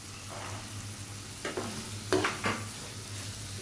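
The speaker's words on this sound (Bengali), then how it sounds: "মটরশুঁটিগুলোকে একটু নেড়ে ছেড়ে নেব" Green peas being stirred and fried in a pan with spiced masala for cauliflower dopeyaza: a quiet, steady sizzle and three or four brief scraping strokes near the middle, with no voices.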